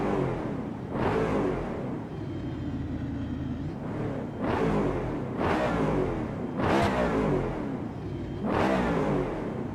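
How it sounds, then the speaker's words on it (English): Ford Mustang with a Coyote V8 in a racing video game, revved hard in five separate bursts, each climbing sharply and then dropping back to a rumbling idle, loud and close. "this is what a Mustang is supposed to look like, or sound like"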